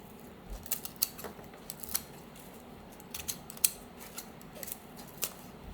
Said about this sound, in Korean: 먹기 좋은 크기로 좀 잘라주세요.